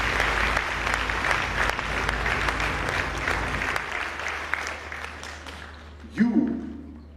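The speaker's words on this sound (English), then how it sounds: "Please give them a big round of applause." Applause fills the hall for First Ladies at the launch of a campaign against early marriage, heavy clapping that thins out and fades partway through before a brief loud burst near the end.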